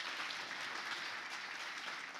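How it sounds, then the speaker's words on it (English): An awards-event crowd at a sold-out healthcare awards gala breaks into steady, dense applause, a continuous wash of many hands clapping at even loudness throughout, with no voices over it. "that deserves some applause"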